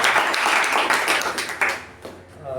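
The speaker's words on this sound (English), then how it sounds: "We have to give a resounding round of applause for them." Members at a Toastmasters club meeting applaud the role players, a short burst of close clapping that fades after about two seconds as a voice starts to speak.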